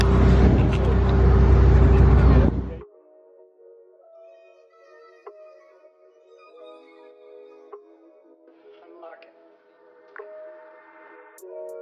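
Go-kart engines at a racing track as the racers set off: a loud, close roar for about three seconds that cuts away to faint, distant engine whine and revving.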